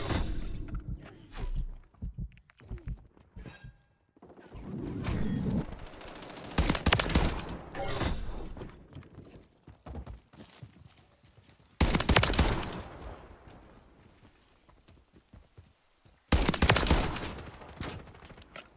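Bursts of MTZ Interceptor rifle fire in Modern Warfare 3, loud and close, with clustered volleys separated by quieter gaps and faint footsteps in between.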